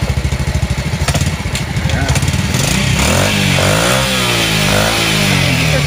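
A motorcycle engine fitted with a power tuner revs unevenly and unstably up close, its pitch rising and falling, with a voice talking over it partway through.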